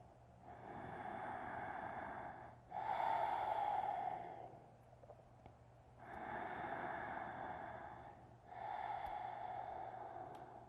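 Slow, deep breathing during a yoga stretch, four long audible breaths alternating inhale and exhale, each lasting two to three seconds, close and quiet with a faint background hum.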